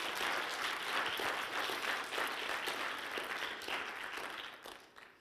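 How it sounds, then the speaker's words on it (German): Sustained applause from a church congregation at an ICF service in St. Gallen, steady dense clapping at moderate distance that carries for several seconds before slowly thinning out at the end. "Herzlichen Applaus"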